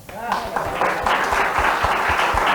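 An audience at an anniversary gala for a TV station breaks into clapping right after a brief voice, a short, steady wash of applause.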